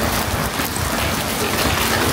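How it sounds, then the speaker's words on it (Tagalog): Steady rain pattering on a Seoul street, a dense, even hiss of drops on pavement with low rumble beneath, continuous and close throughout. "So umuulan."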